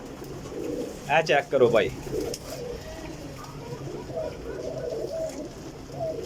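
Teddy golden pigeons in a Jhelum loft coo low and steady while someone speaks briefly and loudly near the start, then the soft cooing continues alone.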